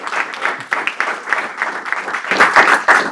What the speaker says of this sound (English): So big round of applause for that, I think.